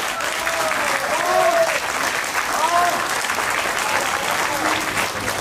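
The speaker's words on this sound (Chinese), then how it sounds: "那各位给大家掌声鼓励一下。" Applause from an audience at a seafarers' union board meeting in Kaohsiung, steady clapping that fills the whole clip at even loudness, with a voice or two faintly audible beneath it.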